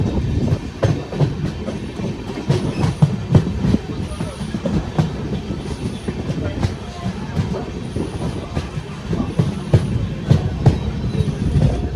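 A Rajkot-to-Goa train rolls steadily along the rails, its wheels clattering in a rhythmic clickety-clack, with faint high squeals and a rumbling undertone throughout.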